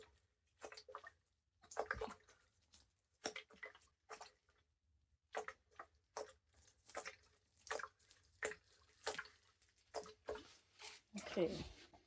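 Water poured onto potted giant sequoia seedlings during repotting, coming in short splashing bursts with brief pauses, fairly quiet and close.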